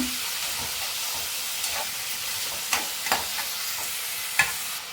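A spatula stirs egg bhurji with potato and onion in a pan, with a low sizzling hiss under a few light scraping taps, quiet and close, with no voices.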